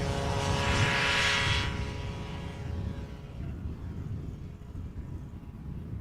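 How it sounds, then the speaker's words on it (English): An Emirates A380 passenger jet from Dubai approaches to land on runway 36 right at Amsterdam Schiphol, a loud steady engine roar that swells early and then gradually fades into distant rumble. "Emirates flight 147, standard livery by the looks of it."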